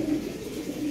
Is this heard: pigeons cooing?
yes